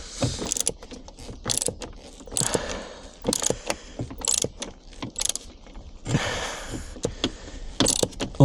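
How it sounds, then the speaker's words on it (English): A ratchet tightens the bolts on newly installed brackets, producing repeated rapid clicking bursts separated by brief pauses, close and fairly loud, with no talking over it. "always make sure that you've got the ratchet switched to the right side. Tighten, not loosen."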